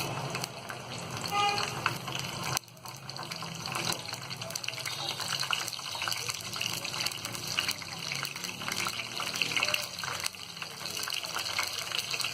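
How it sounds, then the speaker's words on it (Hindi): Whole spices (bay leaves, green cardamom, cinnamon, mace, cloves and cumin) sizzle in lightly heated oil for mutton haleem, a steady broadband crackle with a brief dip partway through and no voices. "तेल को हमने हल्का सा गर्म कर लिया है। अब इसमें हम ये तेज पत्ते डाल देंगे, हरी इलायची, दालचीनी, जावित्री, लौंग और जीरा"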